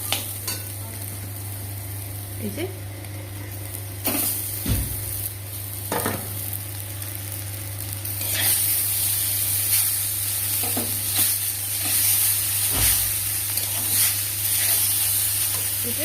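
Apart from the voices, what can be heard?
chowmein noodles frying with vegetables in a pan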